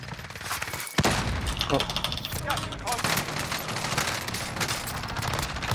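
Rapid bursts of automatic gunfire and single shots rattle through a shooter video game match, dense and continuous, with players talking over the shooting.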